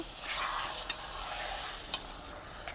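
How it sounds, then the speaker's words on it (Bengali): Meat stirred and fried in a pot over a wood-fired clay stove, a steady close sizzle with soft scraping of the stirring spoon and a few sharp clinks of utensil against the pot. "আমার তো মাংসগুলো দিয়ে দিলাম এবার নেড়ে চেড়ে ঢেকে দেব"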